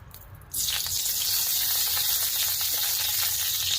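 A kadai with a spoonful of oil heats on the stove for tempering. After a half-second of quieter room sound it gives an abrupt, close, even hiss that continues unbroken.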